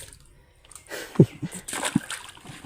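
Small live fish are let go one by one into a village pond in the Sundarbans, giving a few short, close splashes and sloshes of water.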